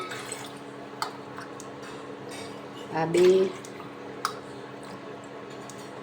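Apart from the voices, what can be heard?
pouring cups of water into a pot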